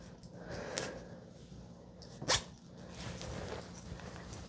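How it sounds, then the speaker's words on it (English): A teal and purple Patagonia jacket is zipped up close to the microphone. There is a quick zip early on, then a sharp, louder zipper pull near the middle, over quiet background rustle. "Let me zip it up so I can show you it zipped."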